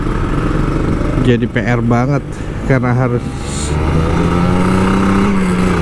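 A Kawasaki Ninja RR 150 manual two-stroke motorcycle idles and revs in wet, rainy traffic, its engine droning steadily beneath someone talking, with a rising whine of revving partway through.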